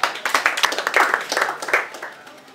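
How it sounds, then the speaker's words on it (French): A live audience claps in a burst of dense, overlapping applause at a public event, loud at first and slowly tapering off over a few seconds. "vous pouvez, si vous le permettez, vous applaudir de vous-même"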